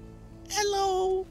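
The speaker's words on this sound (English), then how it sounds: "There's a cat on it." Cat in the video game Lake gives a single clear, tonal meow lasting under a second, close and fairly loud over a quiet background.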